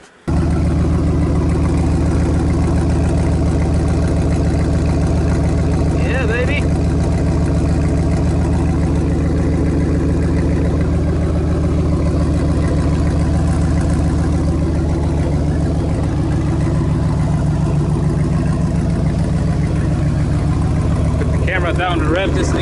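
A 1999 Chevy Silverado 2500 with no muffler idles loudly and steadily up close, a deep, rough exhaust rumble holding throughout with only slight variations.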